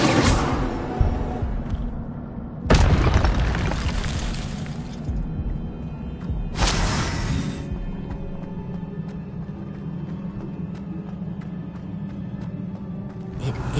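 Incendio fire spell from a Harry Potter video game, heard as two sudden whooshing bursts of flame that flare loudly and fade over a low ambient hum.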